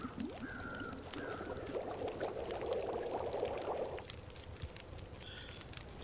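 Water melting and boiling in The Long Dark video game, a soft bubbling, pouring wash that builds for a few seconds and then settles into quieter trickling.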